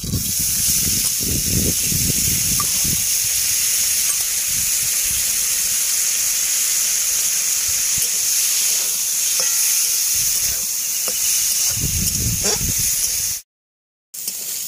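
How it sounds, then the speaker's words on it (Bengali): Prawns fry in a pan with a loud, continuous sizzle and occasional stirring scrapes, running steadily before cutting out briefly near the end; no one speaks. "এবার চিংড়ি মাছটা ভেজে নিচ্ছি"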